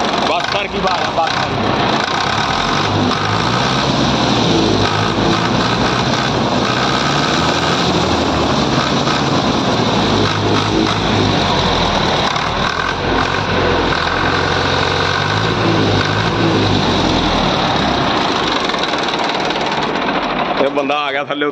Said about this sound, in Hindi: ट्रैक्टर की आवाज